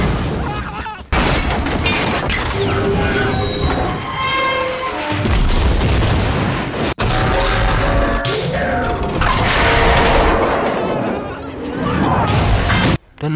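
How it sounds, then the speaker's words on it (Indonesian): Loud, dense film-scene chaos of a truck smashing into a train: repeated heavy booms and crashing impacts, a big explosion and ongoing debris and mechanical clatter, with a brief silent gap early and another near the end. "Truk menabrak kereta, menyebabkan ledakan besar dan kereta keluar jalur."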